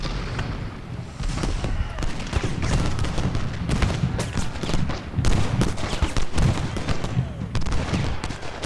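Cannon and gunfire crackle and boom continuously in the Civil War battle game Ultimate General: Gettysburg, with dense overlapping shots and sharp blasts at a loud, steady level.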